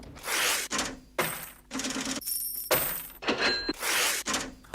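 Cash register and coin effects from a song: a rhythmic loop of metallic clanks, rattling coins, and ringing register drawers, repeating in bursts.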